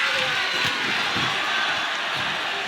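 Arena crowd in the WWE 2K26 wrestling game roaring and cheering steadily, a dense continuous wash of noise at even loudness throughout.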